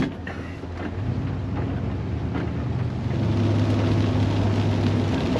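A 1965 Buick Skylark drives along with a steady low engine drone and road rumble heard from inside, the engine note rising in pitch and loudness partway through as the car accelerates through the gears.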